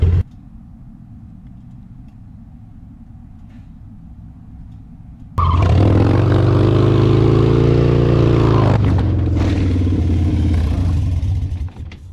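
Harley Dyna motorcycle being drifted, starting with a low idling rumble that suddenly bursts into a loud, close, revving engine roar and sustained throttle with a rising tone, then easing off near the end.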